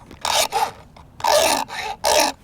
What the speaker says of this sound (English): I can do it with a flat file. Just come across the top,